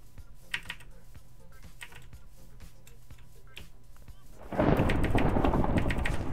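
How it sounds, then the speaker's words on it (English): Clicky typing on a Monoprice mechanical keyboard with Cherry MX Blue switches, with scattered close keystrokes at first, then a loud burst of game gunfire and noise over continued key clicks. "It's a Monoprice mechanical keyboard with Cherry MX Blue switches"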